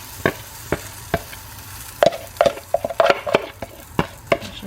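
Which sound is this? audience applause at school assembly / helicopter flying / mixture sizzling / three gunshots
mixture sizzling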